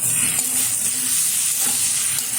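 Papaya pieces dropped into a chicken stew in a hot pan: a loud, steady hiss of sizzling that fills the whole moment, close and unbroken, with no talking.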